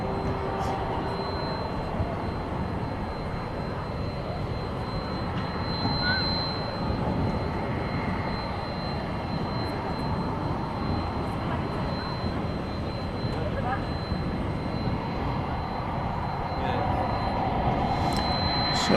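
Jet aircraft departing DFW airport at night bound for Louisville: a continuous, distant engine rumble and hiss that holds steady and swells slightly near the end, with faint background noise.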